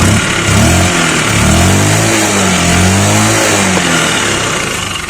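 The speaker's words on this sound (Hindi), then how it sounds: "अब मैं बाइक स्टार्ट कर लेता हूँ और आपको दिखाता चलता हूँ।" A motorcycle that is failing to pick up speed revs loudly and steadily up close, its pitch rising and falling with the throttle, dense rumble throughout.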